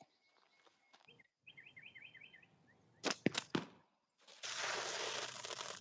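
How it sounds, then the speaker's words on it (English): A faint bird chirps in a quick series of short notes, followed by sharp thumps and then a burst of loud hissing noise. "close the window and you won't hear the birds say anything"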